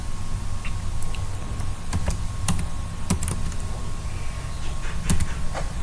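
Scattered keystrokes on a computer keyboard, a few sharp clicks spaced irregularly over a steady background hum.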